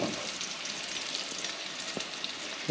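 Steak and green beans fry together in one pan, giving a steady close sizzle with fine crackling throughout and a couple of faint clicks over the hiss.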